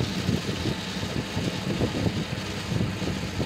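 A 1974 Dodge Dart engine, woken after five years of sitting, runs at fast idle with a steady, low rumbling churn. It holds close and fairly loud for the whole stretch, with no voices.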